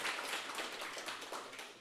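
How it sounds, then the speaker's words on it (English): An audience at a tech talk on Selenium automated testing gives the speaker, Stuart, a round of applause, a fairly quiet, even patter of many hands clapping that carries on for about two seconds. "everybody give Stuart a warm round of applause"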